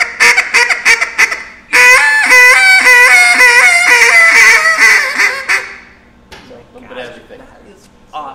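A duck call blown loud and close, running hen-style cadences of bouncing quacks and sharp squeals in a rapid, rising-and-falling rhythm, with a brief pause before a long sustained sequence that trails off.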